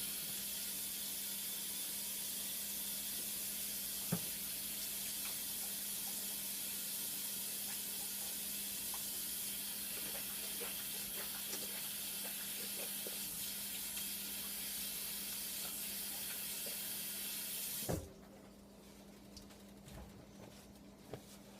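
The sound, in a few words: washing hands under running tap water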